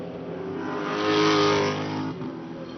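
A powerful AMG Mercedes race car engine at the Hungaroring circuit in the 2012 Superstars Series, swelling loudly as it passes, chased by a Team Dynamic BMW, with a steady engine drone rising to a peak then easing.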